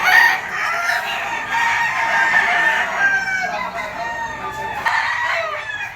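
A yellow-legged brown red bullstag rooster crows loudly and close, one long drawn-out crow with a second, shorter crow near the end, against faint background clucking.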